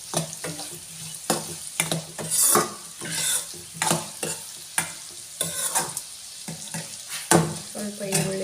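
Onions frying in a hot pan for vermicelli upma, with a spoon or spatula repeatedly stirring and scraping through them; a steady close sizzle is punctuated by rhythmic scrapes and clinks against the pan, with no voices.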